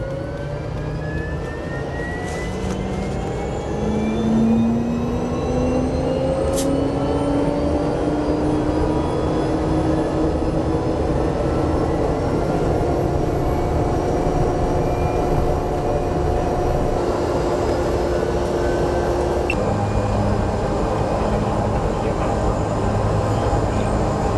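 A Cessna surveillance aircraft's engine drones steadily and loudly for the whole stretch, its pitch slowly sliding upward as it passes close by, with no voices over it.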